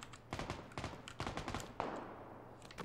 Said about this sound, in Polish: Te strzały lecą...